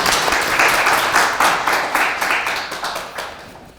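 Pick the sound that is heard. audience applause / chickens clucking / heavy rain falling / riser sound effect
audience applause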